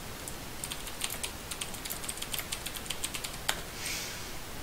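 Loud computer keyboard typing, a quick irregular run of sharp clacks close to the microphone, heard alone over a hissy background and ending with a short rustle.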